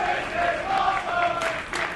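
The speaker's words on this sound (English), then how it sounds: "the crowd chants their approval for this match" A wrestling crowd at a live independent show chants together in a steady, sustained roar of approval, loud and fairly close.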